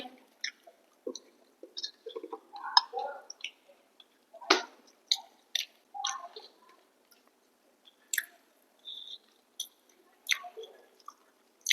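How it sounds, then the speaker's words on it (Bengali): Close, wet chewing of oily fried fish, with irregular soft squishes and smacks spaced across quiet pauses, alone without talk. "মুখের মধ্যে চিবিয়ে যাচ্ছি চিবিয়ে যাচ্ছি"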